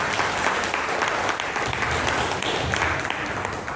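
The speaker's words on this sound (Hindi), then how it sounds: "ताली बजाओ फिर बताऊंगा।" A seminar audience in Vasco, Goa bursts into dense, sustained applause, a loud, even wash of many hands clapping that holds for several seconds.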